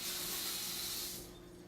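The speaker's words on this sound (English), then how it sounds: "I am going to wash my hands since I licked it" Kitchen tap running steadily while hands are washed, a soft close hiss of water that fades out near the end, with no talk.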